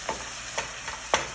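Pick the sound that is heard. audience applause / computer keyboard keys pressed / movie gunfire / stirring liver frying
stirring liver frying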